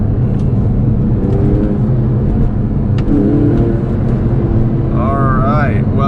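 A Porsche 911 with polyurethane engine mounts pulls hard in second gear from about 4,000 RPM, a loud continuous engine roar close by from start to finish, with the pitch climbing near the end.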